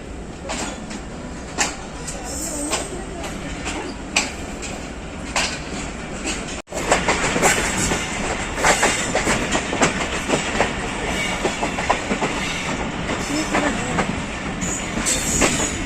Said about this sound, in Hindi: हमारी ट्रेन चल पड़ी है प्लेटफार्म नंबर 2 से लाहौर की जानिब